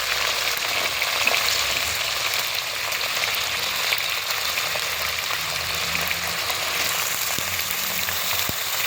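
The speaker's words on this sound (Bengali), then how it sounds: "তো চলো এবার কিন্তু আলু বেগুন আরটা ভালো করে হালকা করে ভেজে নেবো" Eggplant, potato and green chili fry in hot oil in a pan, a steady close sizzle with occasional stirring scrapes and no talk.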